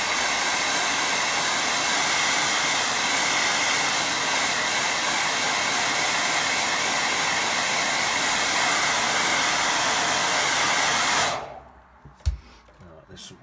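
A hair dryer blows steadily on a watercolour painting, a loud close continuous whirring roar that runs for about eleven seconds and then cuts off, leaving near silence and a brief knock.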